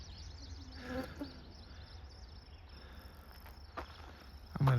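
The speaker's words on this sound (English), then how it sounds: "the bugs are out where I'm standing" Insects, crickets, droning outdoors beside a railway line in the Beecher and Pembine area, a steady buzzing chorus, with a few soft footsteps and a brief nearby rustle.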